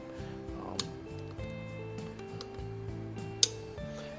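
A Weihrauch HW70 air rifle trigger tripping the sear with the gun uncocked, heard as a couple of sharp, isolated metallic clicks over a low steady hum, close and otherwise quiet, no talking.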